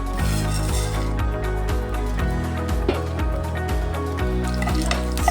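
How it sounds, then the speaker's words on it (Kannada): Mustard seeds, fenugreek, ajwain, cumin and pepper sizzling in two to three spoons of hot oil for pudina chutney, a loud steady frying crackle with scattered pops and occasional stirring clatter close by. "ಒಂದು 2-3 ಸ್ಪೂನು ಆಯಿಲ್ ಹಾಕ್ಕೊಳ್ಳೋಣ. ಸಾಸಿವೆ, ಮೆಂತ್ಯ, ವಾಮು, ಜೀರಿಗೆ, ಮೆಣಸು ಎಲ್ಲ ಹಾಕ್ತಾಯಿದ್ದೀನಿ."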